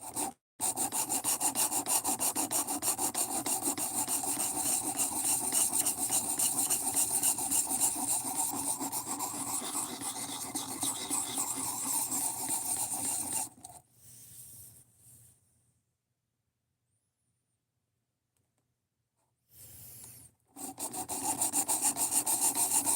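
A knife blade is drawn against the abrasive of a WorkSharp Precision Adjust Elite sharpener in steady, close rasping strokes that run continuously, pause into near silence, then resume briefly.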